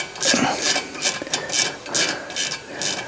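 A hand ratchet clicks in quick repeated bursts, tightening the new brake caliper bolts on a Fiat Ducato motorhome van during a brake pad and disc replacement, close and loud with no talk.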